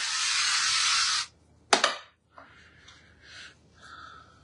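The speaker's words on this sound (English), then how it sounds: "just give it a spray with my non-propellant olive oil" A steady hissing spray of non-propellant olive oil lasts about a second, then stops, followed by a brief clatter and quiet handling noises.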